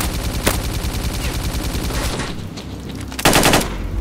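A machine gun rattles out a long, loud, rapid burst in S.T.A.L.K.E.R.: Clear Sky, pauses briefly, then fires again in a second close, sharp volley.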